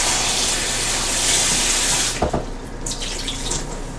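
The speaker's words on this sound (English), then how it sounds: "Water on your taters. They must be surrounded with liquid." Tap water gushes steadily into a pot of small red potatoes, a loud continuous splashing that briefly breaks and shifts in tone near the end as the stream changes.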